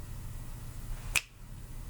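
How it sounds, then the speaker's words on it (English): A single sharp finger snap rings out close and clear against a quiet background. "I snap my fingers."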